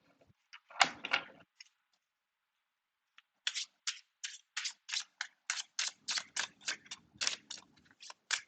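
Tarot cards are handled and shuffled: a few soft rustles and a longer flutter come first, and after a pause a quick, rhythmic run of about fifteen crisp, close card snaps follows.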